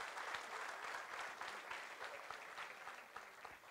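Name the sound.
audience applause for Shambhu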